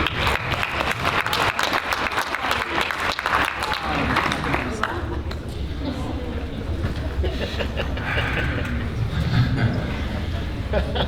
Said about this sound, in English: Let's give a round of applause for his words.